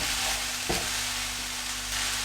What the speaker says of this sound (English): The hard part is keeping this in the pan when we stir it.